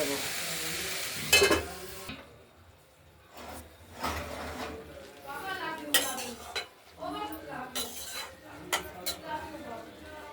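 Radish and bharali fry in a pan with mustard seed tempering and chilli while a utensil stirs and scrapes against the metal. Uneven clinks and clatters break through a low sizzle, with brief quiet pauses between bursts of stirring.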